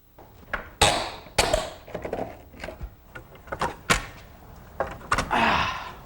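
Old garage door stops being pried and knocked off during a garage door replacement, a series of sharp clunks, bangs and scraping thuds at an irregular pace, close by with no speech.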